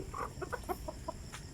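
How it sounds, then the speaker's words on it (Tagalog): Chickens cluck in a quick series of short, close calls over a faint steady background hum. "May mga manok dito."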